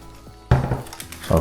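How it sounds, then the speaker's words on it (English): Cheerios cereal poured into a plastic bag, a sudden loud rattling rush of dry pieces that starts abruptly and keeps going for nearly a second, with a second burst at the end. "I'm going to go ahead and pour this sample into this plastic"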